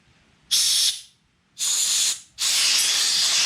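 Three sharp bursts of compressed air hiss out loudly at close range, blowing out the ports of a Kawasaki Mikuni carburetor from a John Deere mower. The first is short, the last longer, with quiet gaps between.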